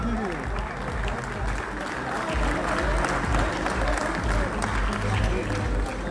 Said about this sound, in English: Everybody, I need a huge round of applause on this one.